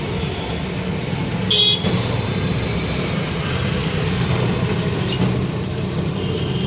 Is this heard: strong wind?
no